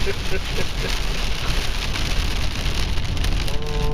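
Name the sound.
rain falling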